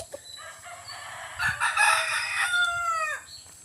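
A young rooster (stag) crows once close by, a long, strained call that rises and then trails off, alone over quiet farmyard background.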